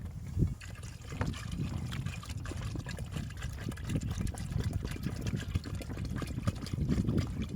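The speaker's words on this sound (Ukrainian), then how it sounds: "Додам ще води." Water pours and trickles steadily into a cooking pot of meat, ribs and beans, a close, continuous gurgling stream with no talking.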